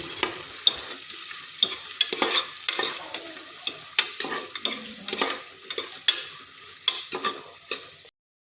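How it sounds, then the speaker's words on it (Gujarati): Two large sliced onions sauté in a pan after cumin for pav bhaji, giving a steady close sizzle and frying hiss with repeated scraping stirs of a spoon, and no talking. "ડુંગળીને આપણે અહીંયા થોડી સાતળી લઈશું"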